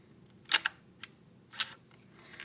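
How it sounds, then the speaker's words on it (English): A Canon EOS Elan film SLR's mirror drops back down after a second press of the shutter release, heard as a few sharp, close mechanical clicks and clacks spread over about two seconds, with no talking. "if you press the button again, the shutter release button, it will lower the mirror"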